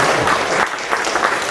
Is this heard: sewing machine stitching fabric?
no